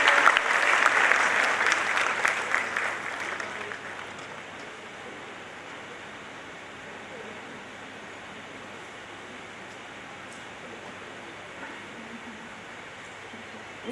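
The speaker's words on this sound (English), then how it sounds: "A big round of applause for Arushi Arora." Audience applause at a college orientation award ceremony honouring scholarship recipients, loud and dense for the first few seconds, then fading to a faint patter and quiet room tone.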